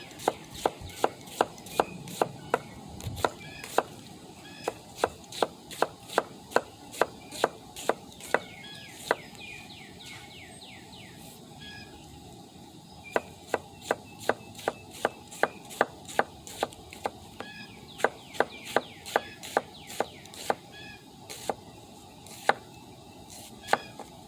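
A knife slices a red onion on a cutting board in quick, crisp, evenly spaced taps close by, running in steady bursts with a short pause partway through and no talking.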